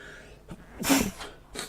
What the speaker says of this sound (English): Pardon me, got the sneezes today.